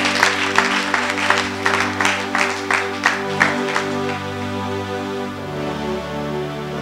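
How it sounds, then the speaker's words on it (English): A church congregation claps in a steady, rhythmic beat over sustained keyboard or organ tones; the sharp claps carry clearly for several seconds, then fade while the music keeps droning. "Somebody give clap offering to Jesus in the house."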